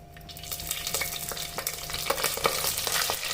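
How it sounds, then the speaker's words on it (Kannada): Curry leaves are dropped into hot oil and fry with a steady, crackling sizzle that rises slightly in loudness over a few seconds. No one speaks. "ಈಗ ಎಣ್ಣೆಗೆ ಕರಿಬೇವನ್ನ ಹಾಕೊಳ್ತಾ ಇದ್ದೀನಿ"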